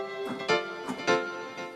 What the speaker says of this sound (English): What you're hearing now is 2 effects at the same time. You're hearing a reverb and a delay.